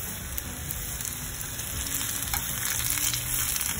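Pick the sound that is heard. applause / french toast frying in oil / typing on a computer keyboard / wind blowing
french toast frying in oil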